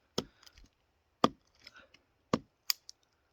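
A survival knife tip digs into wood, giving four sharp, close cracks spaced about a second apart, each followed by faint creaks and splintering, with no talking.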